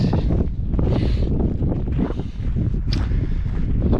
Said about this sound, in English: Nice sunny day, but yeah, that wind is biting.